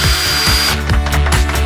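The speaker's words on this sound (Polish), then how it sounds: "A ja wreszcie mogę używać wiertarki." Power drill running at close range, a loud steady motor whine with a rhythmic pulsing throughout and no talk.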